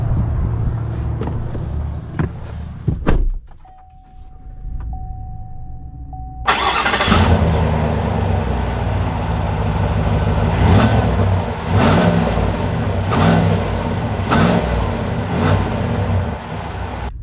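The 6.2L engine of a 2021 Chevy Silverado 1500 LTZ pickup cranks and starts after a brief electronic chime, then settles into a steady, close idle.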